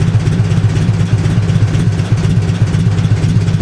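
A 1950 Farmall H tractor engine runs at a steady, even idle, loud and close, with a continuous low rhythmic throb.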